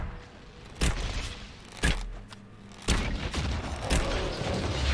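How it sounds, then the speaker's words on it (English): Gunfire in Dragon Age: Inquisition strikes the walls of elven ruins: three sharp, heavy blasts about a second apart over a dense, rumbling game soundscape that swells louder toward the end. "Why must you shoot the walls?"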